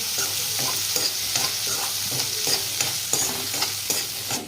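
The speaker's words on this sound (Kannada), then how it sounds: "ಇದನ್ನ ಇದ್ರ ಜೊತೆ ಒಂದ್ ನಿಮಿಷಗಳ ಕಾಲ ಫ್ರೈ ಮಾಡ್ಕೊಳ್ಳೋಣ್ರಿ ಈ ಮಸಾಲೆ ಜೊತೆ" Green peas frying with masala for a samosa filling, a steady close sizzle with regular scraping stirs of a spoon in the pan, about one stroke every half second.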